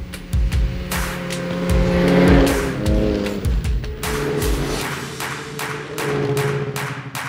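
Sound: snowmobile riding on groomed snow trails

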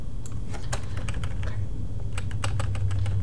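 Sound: computer keyboard keys pressed for Control V paste shortcut

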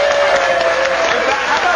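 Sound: studio audience applause

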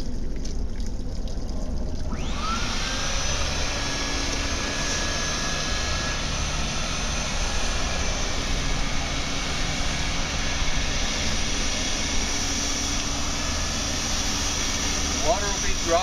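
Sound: fire sprinkler water vacuum running

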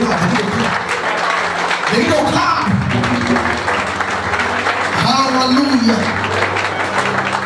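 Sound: church congregation clapping hands

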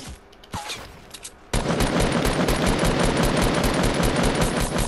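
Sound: gunfire in a video game

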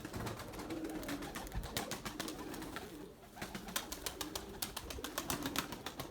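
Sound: white pigeons flapping their wings

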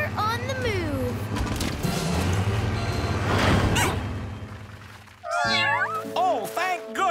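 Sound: cats meowing

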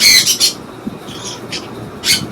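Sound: pet parrot squawking

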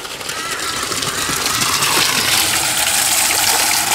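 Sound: water flowing from aquarium biofilter outlet pipe into bucket

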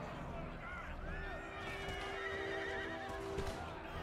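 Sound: horses neighing in Empire Total War video game

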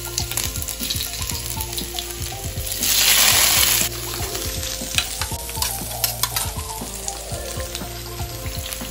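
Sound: ginger and green chili frying in hot oil in a wok

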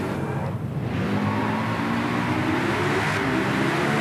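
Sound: motorbike engine while riding in the video game Driveclub

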